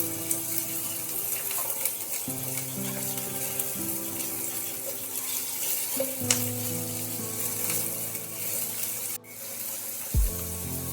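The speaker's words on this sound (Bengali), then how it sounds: "এবার কেটে রাখা যে পেঁয়াজ ছিল সেগুলো আমি এর মধ্যে দিয়ে দিলাম। একেবারে হালকা করে একটু সতে করে নিতে হবে।" Sliced onions sauté in a pan with a steady, close sizzle, broken by occasional stirring and a brief clatter near the end.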